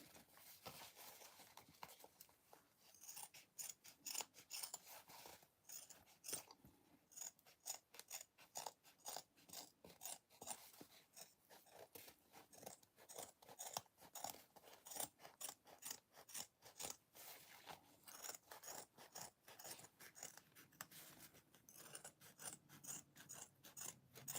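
Scissors snip fabric trimmed to a narrow 1/8-inch margin on an Andie Sling bag before binding, a long run of crisp, closely spaced cuts and rustles close by, with no talking.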